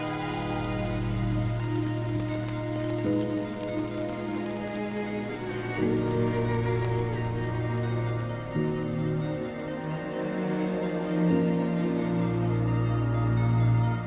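Steady rain in the game Death Stranding, a continuous even wash of falling water, layered under sustained musical tones.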